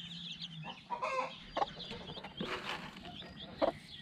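Chickens make soft, scattered clucks and peeps close by in a coop with baby chicks, short calls coming in irregular bursts over quiet background rustle.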